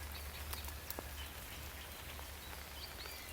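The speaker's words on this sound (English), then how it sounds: "You notice the sound of the raindrops landing on the leaves" Soft, steady rain patters on foliage, a quiet dense hiss with occasional distinct drops and a faint bird call.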